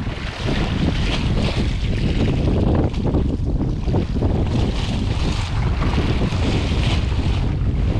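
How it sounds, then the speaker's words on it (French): Strong wind roars continuously into the microphone on the Brittany coast while fishing, buffeting loudly over the wash of water and waves nearby. "Le vent aussi commence à prendre."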